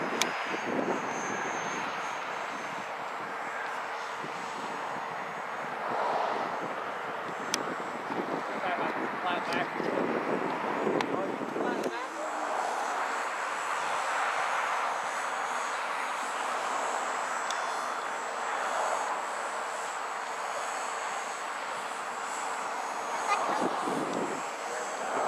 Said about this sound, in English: Byron flying his profile Sbach